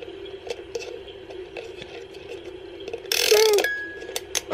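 A small object is screwed back onto its fitting by hand, producing soft clicking and ratcheting thread sounds up close, followed by a brief louder scrape and rattle near the end.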